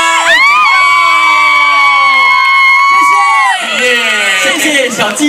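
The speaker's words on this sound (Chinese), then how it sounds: "掌声欢迎" An audience at an outdoor seaside music concert in Pingtung greets a singer with loud cheering, high-pitched whoops and shouts. The sound is close and sustained, then breaks into scattered yells.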